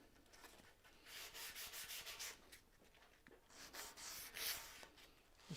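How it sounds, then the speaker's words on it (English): Ends of wooden shelves sanded by hand with a small piece of sandpaper: quick, rhythmic rubbing strokes in short bursts, close and quiet, with brief pauses between passes. "So that little piece of sandpaper that I had. Just tidy up the furry bits off them."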